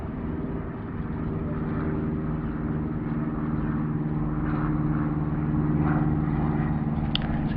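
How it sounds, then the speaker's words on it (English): A propeller aeroplane drones overhead above a cricket ground during a Sunrisers v South East Stars match, a steady, loud engine hum that swells slightly toward the end, with no talking. "It's the sound of an aeroplane buzzing overhead."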